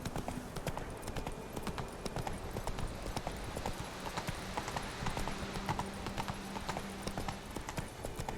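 Geralt's horse Roach plods along at a relaxed walk in The Witcher 3, hooves clip-clopping in a steady, even rhythm over a soft bed of ambient game sound.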